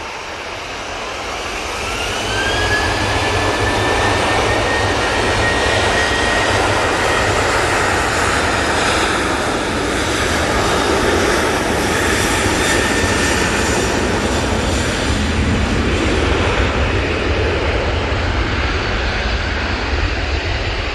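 A jet airliner departing Manchester Airport roars loud and steady for about twenty seconds after a quick swell, a broad engine rumble with a faint rising whine, no voices.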